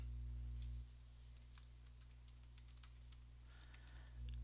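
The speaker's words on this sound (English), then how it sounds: "Then I'm going to type in a title for this address." Quiet, rapid clicks of keys on a computer keyboard as a link title is typed, an irregular run of light taps over a steady low hum.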